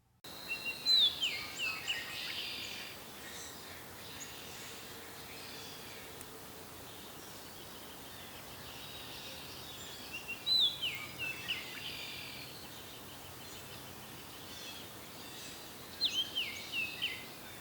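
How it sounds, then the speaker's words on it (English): A Baltimore Oriole sings short whistled phrases three times, spaced several seconds apart, fairly faint against quiet outdoor background hiss. "the first Baltimore Oriole recorded in 2025, had two distinct, though similar songs in his repertoire"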